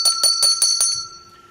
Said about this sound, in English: Oh, where's the bell? I like that noise.